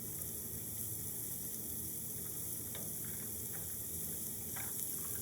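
Chopped onion and carrot go into a pot for a clear vegetable soup, giving a faint, steady sizzle with a few soft scattered clicks and taps throughout.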